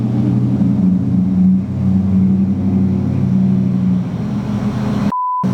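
A car drives past outdoors near a garden bed, its engine noise swelling and fading as a steady low rumble, with no talk; a short electronic tone beeps at the very end.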